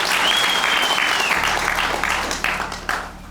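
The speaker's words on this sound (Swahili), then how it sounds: "Mpigeni makofi" Wedding guests applaud during the ceremony, a full burst of clapping that starts strong, carries a faint high whistle-like tone early on, then thins and tapers as the clapping winds down.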